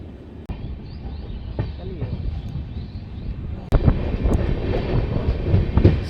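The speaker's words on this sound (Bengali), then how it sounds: "সকালবেলা ঠান্ডা পরিবেশের মধ্যে ট্রেন তার সেকেন্ড হল এন্টার করছে গঙ্গারামপুর" The Tebhaga Express with LHB coaches rolls into Gangarampur station on a cold morning, a steady rumble with clattering wheels that swells louder partway through, with wind noise and people talking nearby.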